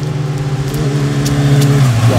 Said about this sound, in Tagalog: May mga motor yun.